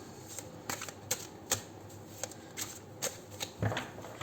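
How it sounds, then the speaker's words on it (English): Soft, quiet riffle-shuffling of tarot cards, with repeated crisp bursts at an irregular pace and no talking. "I usually don't talk while shuffling because I forget how many times I've shuffled"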